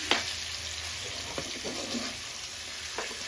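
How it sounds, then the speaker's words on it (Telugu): Ground masala paste simmering with bitter gourd in a pan over low heat, a steady soft sizzle with faint bubbling and a few light stirring knocks, close and alone. "మనం మిక్స్ చేసుకున్న పేస్ట్ మొత్తం దీంట్లో వేసేసుకొని సిమ్లో ఉంచుకొని ఈ పేస్ట్ పచ్చివాసన పోయేంత వరకు మగ్గించేసుకోవాలి"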